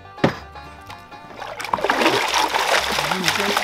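Water splashes and sloshes in a gold pan as material is stratified in a tub of water with jet dry added, a sharp splash early on and then continuous agitated sloshing building up, with voices talking over it.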